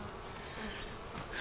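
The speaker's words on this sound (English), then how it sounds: "And I am covered in bees." A dense, close swarm of honey bees at a bee yard buzzing loudly and steadily, their droning hum filling the air with no voices.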